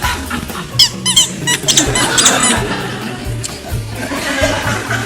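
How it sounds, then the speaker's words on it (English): Squeaky chairs creaking under someone shifting their weight, a series of high, wavering squeaks up close, mixed with laughter and shuffling from an audience. "You've got some very squeaky chairs in here."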